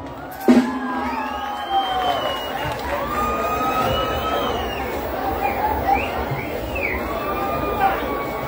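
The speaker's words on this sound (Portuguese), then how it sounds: "Salva de palmas pro Robert, galera!" A crowd at a motorcycle rock festival cheers and whoops loudly, with shouts rising over a steady wash of applause and a brief sharp thump near the start.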